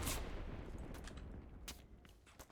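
A quick burst of Walther PPK gunfire in the video game Enlisted, several sharp shots in rapid succession followed by a few scattered later shots, loud and close.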